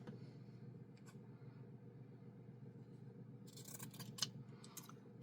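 Scissors cutting fabric to trim a towel ruffle, soft snipping and scraping close by in a quiet room, with a few sharper cuts toward the end.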